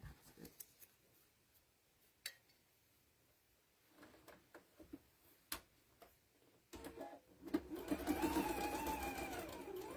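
A sewing machine stitches fabric for a bird potholder: scattered ticks and clicks at first, then a steady close mechanical whirr of running stitches building near the end, with no speech.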